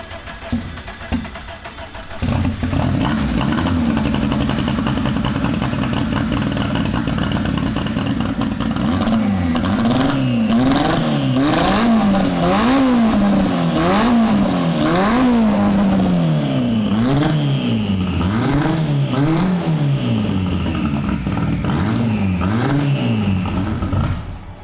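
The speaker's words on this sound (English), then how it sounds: "now I want to fire this thing up and see how it sounds with the new exhaust and turbo manifold" A turbocharged car engine with a new exhaust and turbo manifold cranks and fires up, then idles roughly before being revved repeatedly, the pitch rising and falling in loud surges.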